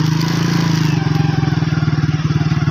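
A motorcycle putters along a sandy track between dunes and wheat fields, its engine chugging close and loud in a steady pulsing rhythm throughout, with no talking.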